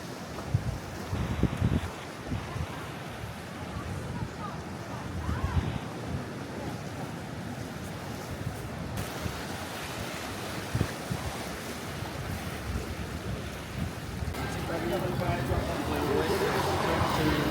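Waves wash ashore at a Spanish seaside, a steady surf rumble mixed with wind buffeting the microphone and people talking nearby.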